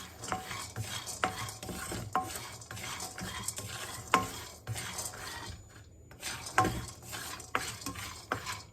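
Peanuts roasting in a dry pan are stirred with a utensil, giving repeated rattling scrapes and clinks over a faint, continuous sizzle, close and moderately quiet.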